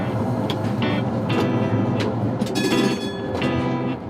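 A Saarbahn tram-train rolls along the rails between France and Germany, a steady loud rumble carrying repeated metallic clicks and faint squeals throughout, with no talk.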